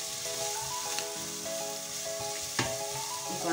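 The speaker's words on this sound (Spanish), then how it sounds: "Así que añadimos la cebollita. La dejamos que se vayan pochando." Chopped onions sautéing in a pan for a chickpea, cod and spinach stew, a soft continuous sizzle with faint clinks of a utensil, with no voices.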